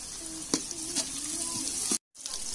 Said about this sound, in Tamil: இப்போ இதல பச்சை மிளகாய் சேர்த்துக்கலாம்.